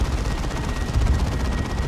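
Rapid assault cannon fire in the Warhammer strategy game Dawn of War 2: a dense, continuous rattle of fast repeating shots, steady and loud, with explosive battle noise mixed in.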